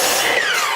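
A chop saw with a laser guide trims a square end off a piece of wood: a loud, steady blade whine and cutting roar fills the whole short moment, close and alone.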